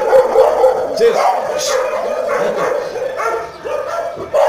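A dog barks and yips several times nearby in a Brazilian street setting, loud and intermittent, while someone speaks Portuguese over it.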